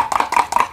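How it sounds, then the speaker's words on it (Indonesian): Eggs whisked in a container with a rapid, rhythmic series of close, sharp taps and clacks, steady and fairly loud, with no voices. "Kita kocok."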